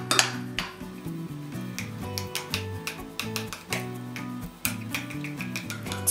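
A utensil stirs garlic and salt sauce for chicken rolls in a bowl, giving repeated clinking taps and scrapes in an uneven rhythm, close and moderately loud, with no talking.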